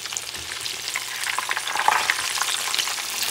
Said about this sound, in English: Let them fry.